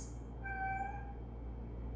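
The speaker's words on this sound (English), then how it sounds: "Excuse my cat, she's in heat." Female cat in heat giving a single drawn-out, high meow indoors, fairly faint over a low steady background hum.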